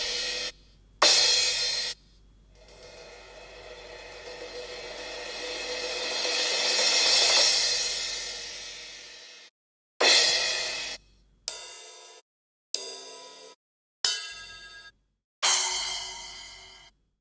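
EDM drum samples from a sample pack, including 808s, play one after another: a long swelling sustained sound, then five short punchy hits with decaying tails separated by silent gaps, loud and isolated.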